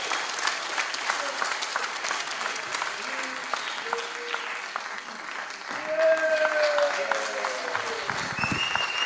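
A crowd applauds after a stage show, sustained clapping throughout that swells louder in the second half, with some voices and whistle-like tones rising over the clapping.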